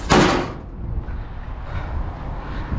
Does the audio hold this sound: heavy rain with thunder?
no